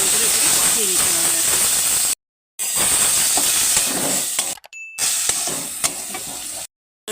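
Spices sautéing in a pan with chili powder for a fish head and potato curry, a loud steady hiss of frying close by with a few metallic clinks, broken by brief silent gaps.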